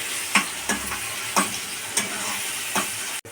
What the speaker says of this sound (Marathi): तर मित्रांनो इथे कांदा टमाटरला चांगला शिजून द्यायचं आहे मस्त